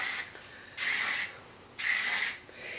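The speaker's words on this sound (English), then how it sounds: "I'm going to use the Kenra Color Maintenance Thermal Spray, and I'm just going to spray that kind of everywhere." Two bursts of Kenra Color Maintenance Thermal Spray misted over hair, each a soft, close hiss lasting about a second, separated by a quiet pause.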